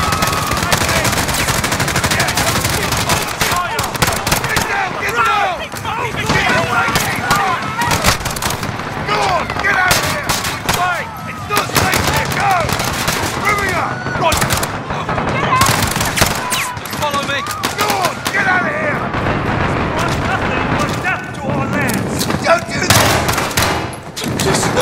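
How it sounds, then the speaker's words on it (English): Gunfire in the Call of Duty: Modern Warfare Piccadilly Circus mission, loud dense bursts of automatic and single shots with booming impacts throughout, mixed with shouted voices and chaotic game ambience. "Shots fired."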